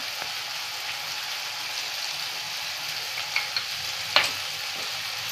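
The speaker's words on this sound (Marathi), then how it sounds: "चांगलं हलवून घ्यायचं मिक्स करून." Chicken liver masala with onion, tomato, coriander and cumin powder frying in oil, a steady close sizzle with a few light spoon clinks and scrapes near the end.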